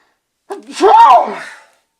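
A single sharp sneeze, sudden and close, with a brief voiced burst that trails off quickly.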